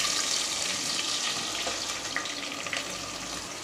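Steady hissing sizzle of sliced large onions frying in hot oil for biryani, close by, with faint occasional stirring clicks and no talking.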